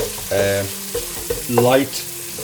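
Cumin seeds sizzle in hot oil in a pan while cooking a moong lentil rice khichdi, a continuous hissing crackle with a couple of brief louder tonal bursts over it, close and moderately loud.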